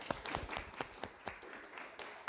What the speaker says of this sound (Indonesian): Beri tepuk tangan untuk Arjun dan Azza.